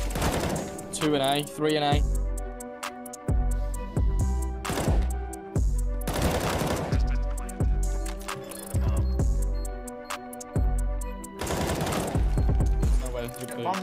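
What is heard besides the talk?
gunfire in the video game CS:GO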